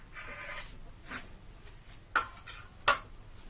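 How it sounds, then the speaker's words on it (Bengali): A plate is set down for serving food, giving two light clinks of dishware in a quiet home kitchen, spaced under faint background rustling. "থালা দিচ্ছি।"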